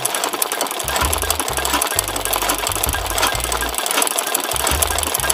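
An embroidery machine stitching thread onto a dress shirt, with loud close rapid mechanical hammering in repeated bursts that stop and start, over steady background noise and no talking.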